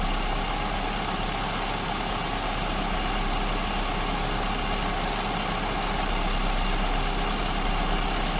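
A car engine idles on a lean fuel mixture with its idle speed oscillating, a steady, dense, close-up mechanical rumble that continues without a break.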